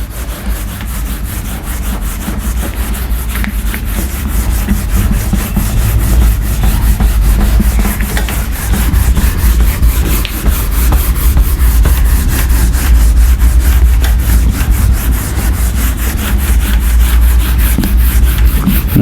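Steady, continuous rubbing of an object against a surface, a dense scraping texture that stays loud and even for the whole stretch with no talking.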